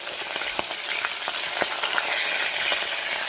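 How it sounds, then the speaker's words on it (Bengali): Dense sizzling of hot oil frying fish, with sharp pops and spatters bursting through repeatedly, loud and close, with no voices. "তেল খুব ছিটকাচ্ছে দেখো"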